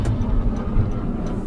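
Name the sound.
jet aircraft flying overhead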